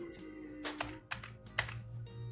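Typing on a computer keyboard while setting up a Truffle smart-contract project, with several short bursts of keystrokes clustered together over a steady low hum, close and moderately loud.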